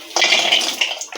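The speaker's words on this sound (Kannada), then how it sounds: "ಇವಾಗ ಫ್ರೈಂಗ್ ಪ್ಯಾನ್ಗೆ ಆಯಿಲ್ ಹಾಕಿ" Cooking oil pours into a frying pan before chicken is fried, a short close liquid splash and gurgle lasting about a second.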